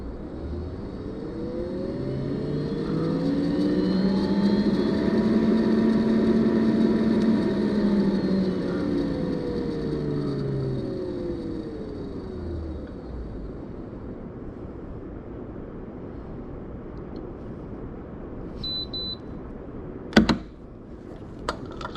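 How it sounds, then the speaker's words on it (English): A benchtop laboratory centrifuge spinning down a tube of proofreading polymerase runs with a loud, steady whir that rises and falls in pitch over about twelve seconds, then fades, ending with a sharp click. "So I'm just going to spin down my proofreading polymerase."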